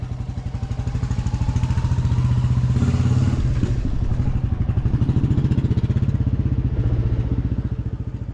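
A Royal Enfield Classic 350 single-cylinder engine thumps steadily while riding on a commute home, a loud, close, rhythmic pulsing that holds its pace throughout.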